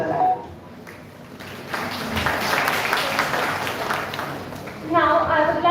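Applause from an audience at a law college's Pro-Bono Cell inaugural and orientation event, honouring performers; steady dense clapping fills the middle of the clip, with a voice speaking at the start and end.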